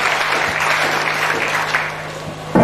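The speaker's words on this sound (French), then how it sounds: "Clap for Master Jesus." An audience at a bilingual church sermon claps steadily together for Jesus, a dense sustained applause filling the room at moderate loudness and ending with a sharp louder burst.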